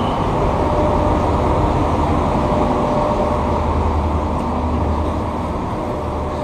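A constant low rumble and broadband roar of a night train at a station in Thailand, steady and loud throughout, with no talking.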